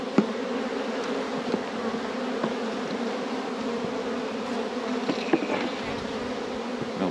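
Agitated honeybees buzz steadily and densely at close range as a hive is split in early spring, a continuous loud drone with no talk over it.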